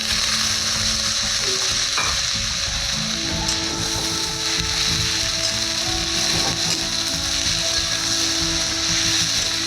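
Tomatoes go into a chicken curry sizzling in a pan over a lowered gas flame for chicken sundori, with steady loud frying and stirring scrapes running throughout, no talk.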